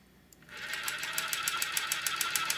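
A Merrow overlock sewing machine starts up and stitches along a fabric edge, running at a steady, fast mechanical whir with a rapid, regular ticking pulse, loud and close with no talking.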